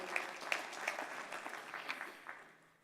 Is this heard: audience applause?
yes